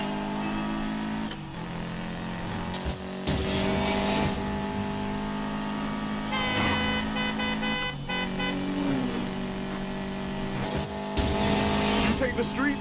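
Cars race in the video game Need for Speed Payback: a steady, close engine roar with shifting revs and bursts of tire squeal and skidding, and voices drift in and out.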